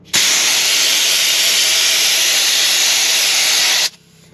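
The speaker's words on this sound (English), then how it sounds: "pull this collar back to bleed the air. It's going to be loud" Loud, steady hiss of air rushing out of a tyre valve for several seconds, then cutting off abruptly.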